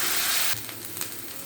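Ginger-garlic spice paste fries and is stirred in a pan, a bright hiss at first that settles into softer sizzling with faint scraping, close and brief.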